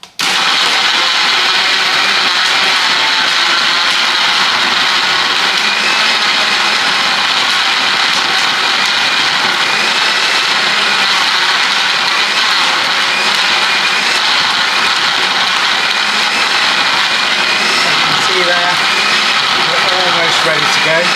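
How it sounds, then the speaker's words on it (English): A loud, steady, roaring blender motor runs continuously throughout, with grinding and rattling from ice being crushed inside for a strawberry frappe, close up. "the sound that the blender makes as the frappe starts to become prepared and ready to use"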